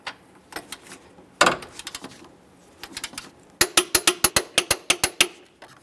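A ratchet clicks on 15mm engine mount bolts on a 2013-2020 Ford Fusion 2.0L: scattered short clicking bursts, then a rapid, even run of loud close clicks near the end, with no talking.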